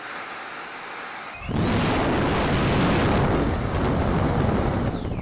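A 3D printed Harrier STOL jet model's engine spools up for a thrust test, a sudden loud jet roar kicking in after a high whine and holding steady with a piercing tonal scream on top, close and without talk.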